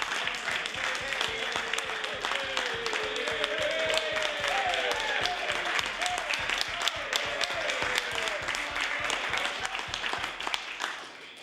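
Members of a House of Assembly chamber applaud in a sustained, dense round of clapping that continues for over ten seconds, with a voice speaking underneath.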